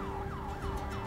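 A police car siren in a roleplay game wails in repeated rising and falling sweeps, a steady loud electronic tone cycling several times in quick succession with road rumble underneath.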